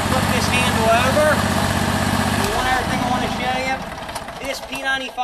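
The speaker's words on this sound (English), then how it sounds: "To start the unit, you flip your ignition switch on, push this handle down." An ICS P95 hydraulic power unit's engine runs steadily and loud throughout, a continuous mid-pitched drone with a slight drop in level near the end while someone talks over it.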